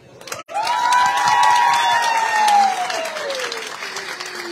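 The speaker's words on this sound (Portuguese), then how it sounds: "Torcida organizada, gente." An audience at a hospital obstetric centre inauguration breaks into sustained applause and cheering, loud and close, with a rising shout or whistle carried over the clapping for several seconds.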